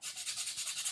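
Brisk, rhythmic sanding strokes rasp across a concrete vase, close and steady for a moment, with no voices.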